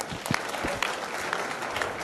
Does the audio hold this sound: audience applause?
yes